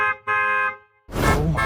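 A bus horn honks twice in traffic, two loud blaring blasts close by, followed by a burst of noisy street and vehicle sound.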